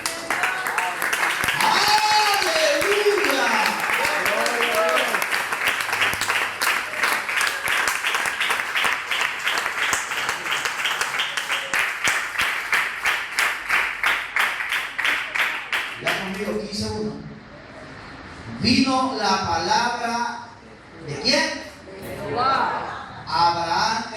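A church congregation applauds the Lord, a dense wash of clapping that fills most of the stretch before thinning out into a preacher's voice speaking alone.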